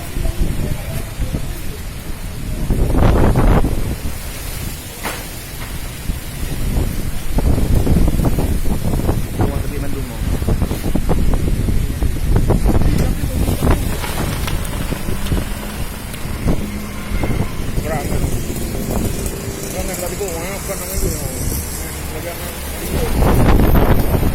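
Strong gusting wind during a whirlwind in Banda Aceh, loud roaring buffeting against the microphone with rain-like noise and rising blasts, with people speaking faintly underneath.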